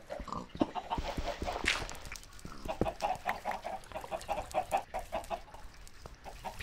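Minecraft chickens clucking in a farm setting, a run of short, repeated clucks and squawks close by, fairly quiet, with no talking.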